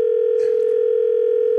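A steady telephone dial tone, loud and unbroken, while a radio show host puts a caller on the line, with a faint brief voice flicker near the start.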